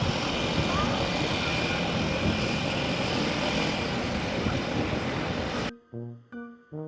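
A loud, steady seaplane propeller engine drone for most of the clip, cutting off abruptly before a voice speaks briefly.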